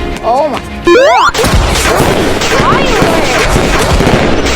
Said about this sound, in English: Fireworks! That is amazing.